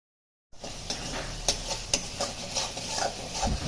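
Spices with cumin-chilli paste, turmeric, red chilli powder and salt stir-fry in hot oil for an ilish fish curry, a steady sizzle broken by a few sharp scrapes of a spoon against the pan after a brief silent start.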